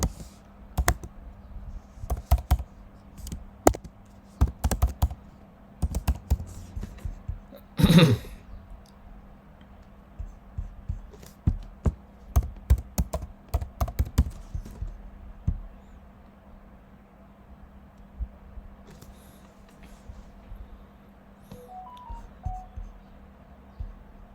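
Typing on a computer keyboard, heard as clustered bursts of close, crisp key clicks separated by pauses, with a brief throat clearing early and quieter tapping toward the end.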